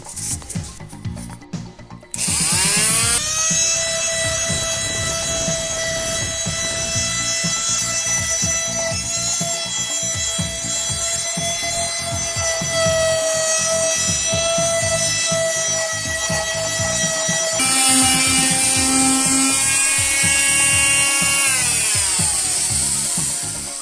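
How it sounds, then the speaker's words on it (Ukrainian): A high-pitched oscillating multi-tool buzzes steadily while sanding a chrome chair, its whine shifting pitch slightly as it runs for a long stretch. "Зараз буду шліфувати. Недавно придбав ось таку штуку, реноватор."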